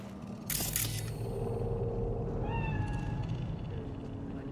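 A cat meows in the video game Cyberpunk 2077, a single drawn-out call heard clearly over a steady game ambience, with a brief mechanical click just before it.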